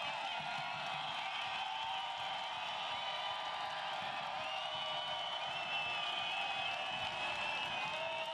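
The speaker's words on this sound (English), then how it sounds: "Listen to this crowd" A soccer crowd roars at a USL playoff match between Phoenix Rising FC and Swope Park Rangers at the Phoenix Rising Soccer Complex, a steady, dense wall of cheering that fills the stadium without a break.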